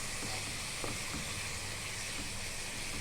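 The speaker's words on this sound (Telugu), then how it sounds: "పైకి వచ్చేలాగా ఈ టమాటా పేస్ట్ని ఫ్రై చేయాలి" Tomato paste with turmeric sizzles and fries in a pan, a steady bright hiss with occasional soft pops, close and constant throughout.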